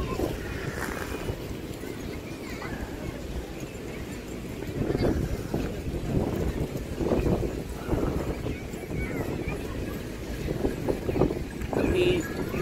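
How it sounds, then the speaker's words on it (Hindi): Strong wind gusts across the microphone at the Yanbu beach corniche on the Red Sea, a constant blustery rumble with louder buffets, while someone talks throughout. "हवा बहुत तेज़ है"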